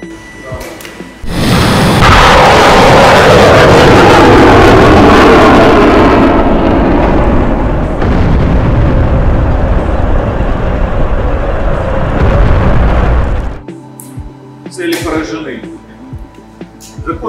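A simulated Igla MANPADS launch in an anti-aircraft section training simulator, heard as a sudden loud rushing roar that sustains for about twelve seconds before cutting off, followed by quieter clicks and knocks.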